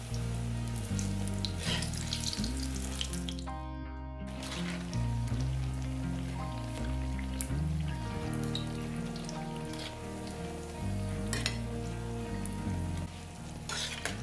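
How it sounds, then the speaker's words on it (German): Aubergine pieces deep-frying in hot oil, a continuous crackling hiss like rain on a surface, holding steady and close for the whole stretch with a brief dip near the start. "bis die Aubergine-Stückchen gleichmäßig goldbraun und knusprig sind."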